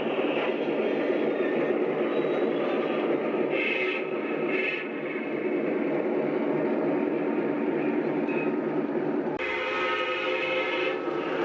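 A train rumbles past close by, a continuous loud roar of wheels on rails with a brief shift near the end.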